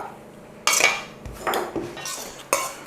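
Lemongrass pork salad scooped onto a plate with cutlery, giving three distinct clinking scrapes of metal against the dish, close and fairly loud.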